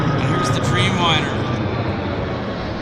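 An Air Canada Boeing 787 Dreamliner jet takes off at Vancouver Airport, heading to Newark. A steady, loud engine roar fills the scene, with radio chatter and voices talking over it.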